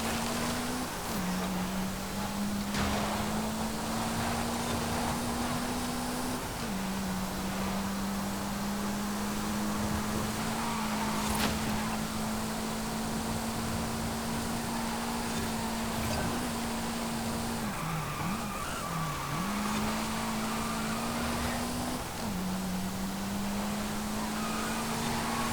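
Lancia Delta HF Integrale EVO in Forza Horizon 5, a heavy all-wheel-drive car, holds a steady droning engine note throughout, with brief dips and rises as gears shift, loud and continuous with no talk.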